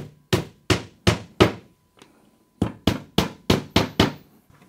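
Sharp hammer-like taps while fitting parts into a sink base unit panel: four evenly spaced knocks, a brief pause with a faint tick, then six more quick strikes, close and crisp with no talking.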